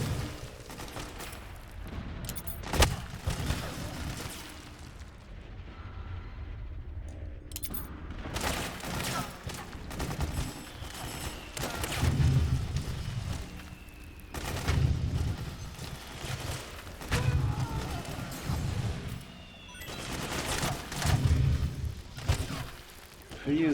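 Assault rifle gunfire in the video game Metal Gear Solid 4, sharp bursts and rattling volleys of shots at moderate distance, spread irregularly across the scene amid game ambience.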